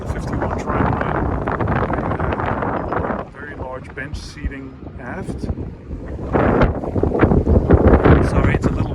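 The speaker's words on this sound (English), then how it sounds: "it's a little windy today in La Rochelle, France" Wind buffets the microphone on the flybridge of a 51-foot trimaran in La Rochelle, France, roaring in heavy gusts that drop away briefly midway, while someone talks over it.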